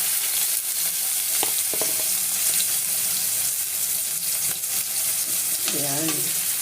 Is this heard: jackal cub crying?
no